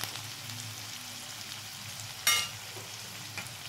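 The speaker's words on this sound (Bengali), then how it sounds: "এটা আমি একটু হালকা করে ভেজে নিচ্ছি।" Onions fry lightly in a pan with a soft, steady sizzle and a short, sharper crackle partway through.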